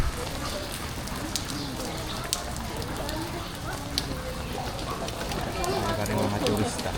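Steady monsoon rain hisses and patters on surfaces throughout a street, with voices talking faintly over it.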